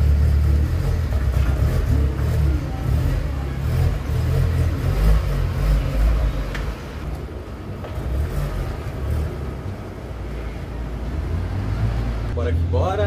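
A Volkswagen Gol Turbo engine runs steadily with a deep, continuous low rumble throughout, while someone talks over it.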